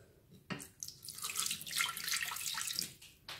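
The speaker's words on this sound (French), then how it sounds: "je vais mettre tout d'abord 100 ml dans le bol du Thermomix" Water pours into a Thermomix bowl for a meloui dough, a soft splashing stream lasting a few seconds, close and quiet with no talking.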